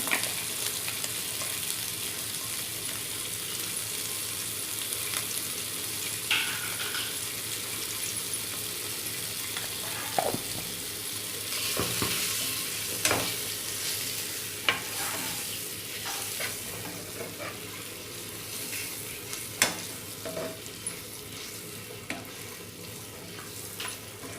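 Eggs frying in a roasted coconut masala with chilli powder for Kerala egg curry, a steady soft sizzle with scattered clinks and scrapes of stirring, continuous and close without talk.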